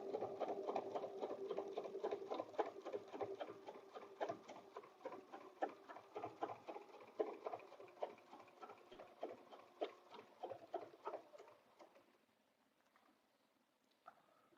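Close, fairly quiet sewing machine stitching a butterfly bed runner quilt, a rapid even needle patter running for about twelve seconds before stopping, followed by a faint click, no talk.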